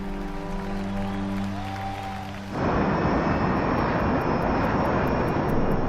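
A 1999 Learjet 35 business jet in flight on approach to Aberdeen, South Dakota: after a few seconds of tonal music, a loud, steady broadband jet roar sets in and holds constant, with no talking.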